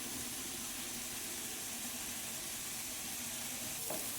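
Masala of chili powder, coriander powder, turmeric and a pinch of garam masala frying in a pan, a steady, even sizzle held close and unbroken throughout, with no voices over it.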